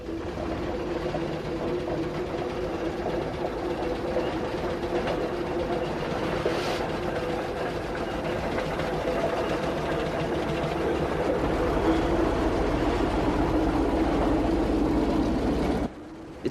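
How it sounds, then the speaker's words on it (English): A 1912 Aveling and Porter steam road roller travels along a road, giving a steady, continuous rumbling drone with a low mechanical hum throughout, ending abruptly. "Fred often takes his 1912 Aveling and Porter road roller to traction engine rallies"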